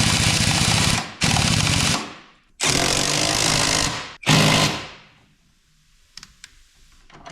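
A power tool driving the lower running board mount bolts on a Chevy Silverado, three loud buzzing bursts of about a second each with short pauses, then faint clicks afterward.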